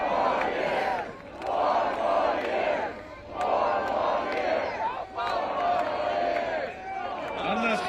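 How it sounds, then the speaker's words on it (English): Rally crowd at a Make America Great Again victory rally, with pro-UAW supporters, cheering and shouting in loud swelling waves that rise and fall over several seconds, a voice briefly audible over the roar. "The lady wearing a UAW sweatshirt started cheering for the USMCA."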